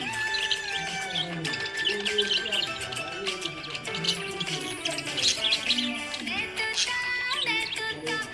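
A budgie chirps brightly and continuously in a dense run of rapid tweets and warbles, close and steady throughout.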